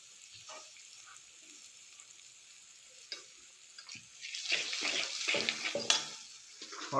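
Chopped capsicum, green chilli and ginger fry in a pan, a soft sizzle that builds from quiet to louder, busier crackling with scraping stirs toward the end.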